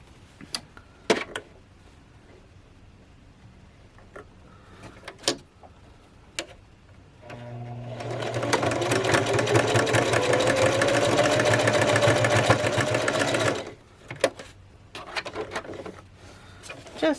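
Sewing machine running a zigzag stitch to finish the top of a buttonhole sewn without a buttonhole foot, a steady close whirring burst of about six seconds set between quiet handling clicks and taps.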